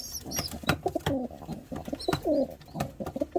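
Racing pigeons cooing inside a loft, with several soft, throaty coos and warbles close by, scattered taps and light movement among them.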